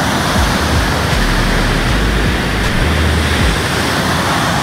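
A powerful waterfall along a river on a kayaking trip roars steadily and loudly, a dense unbroken rush of churning water close by with no voices.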